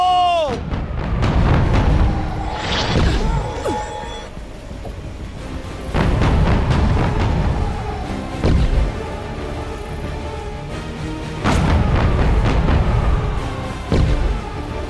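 Ship cannons firing in Disney Infinity 3.0, several heavy booming volleys every few seconds, each a sharp blast trailing into a rumbling tail, loud and close amid game music and sound effects.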